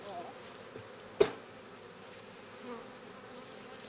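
Honey bees buzz steadily around full honey frames lifted from a Langstroth hive, a soft continuous drone with one brief sharper thud partway through and a faint voice in the background.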